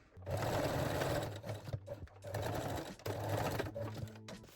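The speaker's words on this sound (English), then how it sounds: "And lock or backstitch all seams with the straight stitch." A sewing machine backstitching the seams of high-waist panties with a straight stitch, whirring in three close, steady runs separated by short pauses.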